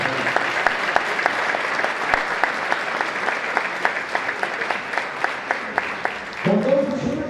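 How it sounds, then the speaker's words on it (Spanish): Audience at an Asturian Christmas folk music gathering claps steadily for several seconds, a scattered rhythmic patter of hands with a brief burst of voices near the end. "Un aplauso que dé el más grande."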